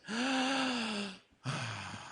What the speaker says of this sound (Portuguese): Quando você respira, você enche o pulmão de ar e você solta